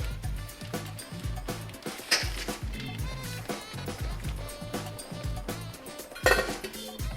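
Dry spaghetti dropped into a pot of water for puttanesca, giving clattering, clinking knocks against the pot in an uneven run, close and moderately loud, with a brief louder jangle near the end.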